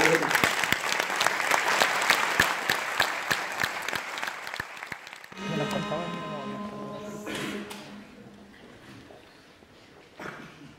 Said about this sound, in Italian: accogliamo con il familiare applauso di sempre il coro Monti